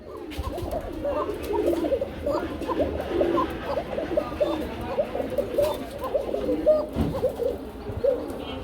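Pigeons kept for sale at a market coo repeatedly in soft overlapping calls from several birds nearby, with a steady background murmur.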